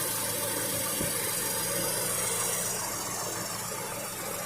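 A Nissan D21 truck engine idles steadily while its idle is adjusted; a low, even rumble with hiss sits close and moderately quiet, and no one speaks.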